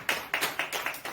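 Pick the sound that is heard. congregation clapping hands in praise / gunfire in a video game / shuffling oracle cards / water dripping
congregation clapping hands in praise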